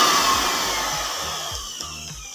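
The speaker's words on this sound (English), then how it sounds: "You can see this vacuum cleaner is directly working." Vacuum cleaner under repair at home, switched on and running with a steady high-pitched whine and airflow hiss, a few faint clicks and low thumps underneath.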